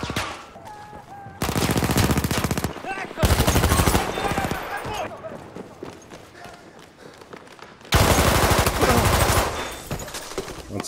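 SMG 08/18 submachine gun in Battlefield 1 is hip-fired in loud, rapid automatic bursts, three long sprays separated by gaps filled with quieter footsteps and in-game battle noise.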